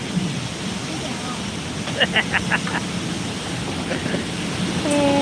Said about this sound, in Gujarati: વાવાઝોડું આવ્યું